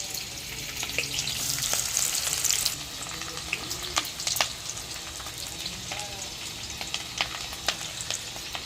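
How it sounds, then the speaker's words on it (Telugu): Onion and green chillies fry in very hot oil with a dense, crackling sizzle that stays loud and steady, broken by scattered pops and the occasional stir. "ఆయిల్ అయితే బాగా వేడాను కదా ఉల్లిపాయ పచ్చిమిర్చి ఇంకన్నీ వేసేసుకున్నాం"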